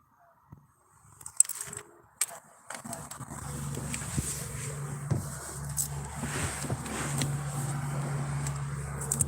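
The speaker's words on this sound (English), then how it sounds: "I can't hear you over the vehicles driving by" Traffic passes outside a parked car, a low engine hum building and holding after a few scattered knocks and clicks near the start, steady and moderately near.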